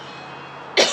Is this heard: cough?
yes